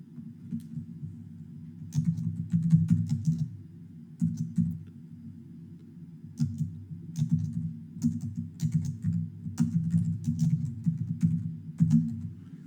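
Fingers type on a computer keyboard to log a stock trade, producing soft, close clicking in uneven bursts with short pauses, alone without speech.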